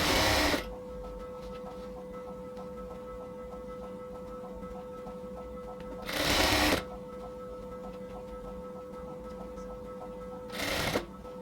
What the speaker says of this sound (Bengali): তারপর আমরা এটাকে সেলাই করব